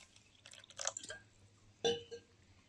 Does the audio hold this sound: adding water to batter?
yes